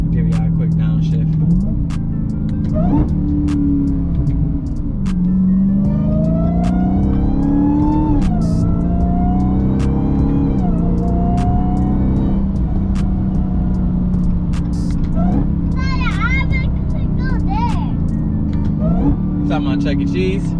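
A 2020 car fitted with a Legmaker intake and supercharger, its loud engine note and rising supercharger whine sweeping up and down through a quick downshift and revs, heard close with a voice talking over it.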